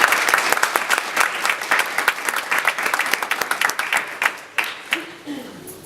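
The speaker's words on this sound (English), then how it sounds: "Nice round of applause so they know you're here." A school graduation-night hypnotist show audience gives a round of applause, sharp, loud clapping in a busy rhythm that thins out toward the end as a voice starts speaking.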